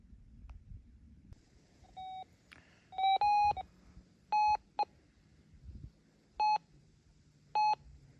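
Metal detector sweeping over dug-up quartz gravel on a creek hillside, giving a series of short, clean electronic beeps at irregular intervals over quiet outdoor background.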